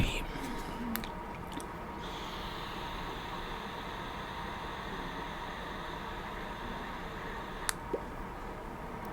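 Close-up chewing of food in an ASMR mukbang: soft, wet, squishy mouth sounds sit low under a steady hiss, with a few sharp clicks, continuous for about nine seconds.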